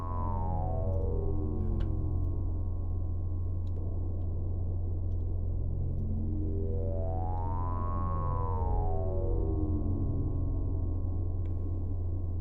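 A steady synth drone in VCV Rack washed in a huge, lingering plateau reverb, with sweeping tones rising and falling through a dense wash and faint ticks.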